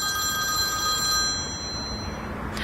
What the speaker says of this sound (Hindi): सेल्समैन का फोन है।